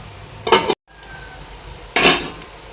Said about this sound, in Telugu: ఇప్పుడు మూత పెట్టేసి మనం ఒక ఫైవ్ మినిట్స్ మగ్గించుకుందాం